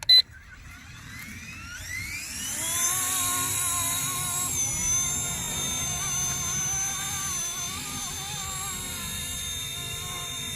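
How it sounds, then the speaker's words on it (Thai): A brushless RC ERA C189 MD500 model helicopter spins its rotor up after a click, rising to a loud, steady high-pitched whine with a hard edge that holds as it lifts off. "กด take off ใบพัดจะหมุนและฮอจะยกตัวเลยนะครับ"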